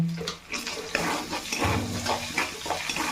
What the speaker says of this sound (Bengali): এখন আমি এর মধ্যে স্বাদ অনুযায়ী লবণ এবং একটুখানি চিনি দিয়ে দিচ্ছি। দিয়ে এটাকে খুব ভালো করে আরেকটু কষিয়ে নেব।